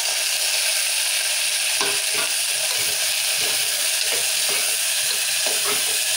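Tomatoes fry in oil with browned onions and chillies for mutton paya curry, a constant close hiss overlaid with repeated light stirring clicks and scrapes, no speech.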